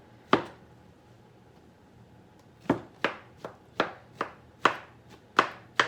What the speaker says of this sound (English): Or maybe a lot of chopping.